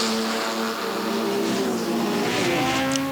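Vintage race cars, including an Alpine A110 and a Ford GT40, roar at full throttle on the Montlhéry circuit during the 1993 Tour Auto, a steady loud engine drone with rising revs and overlapping cars.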